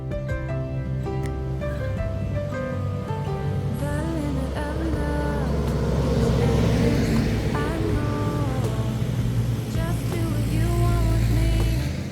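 Motorcycle riding along the Marcos Highway toward Baguio, a steady engine drone with shifting harmonics that rise and fall as the rider changes speed, loud and continuous throughout with no talking.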